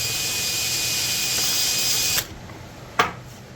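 A hand drill whirs steadily up close as it bores into a kitchen drawer board, then cuts off abruptly, followed by a brief clunk.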